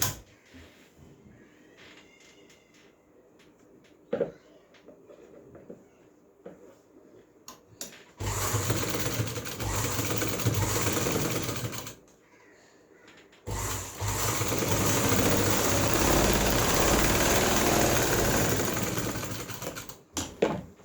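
A sewing machine runs a top-stitch along the neckline of a garment, two sustained loud bursts of whirring stitching separated by a short pause, after quieter handling clicks.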